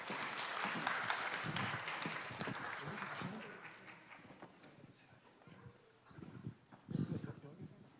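A church congregation at a Scripture recitation school worship service claps to welcome the pastor forward, a dense burst of applause that gradually thins and fades, with a few louder scattered claps near the end.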